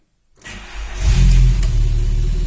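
A 2000 Volkswagen Golf 4 1.6 AKL engine with unstable cold running cranks and catches after a brief silence, then settles into a steady, loud idle close by.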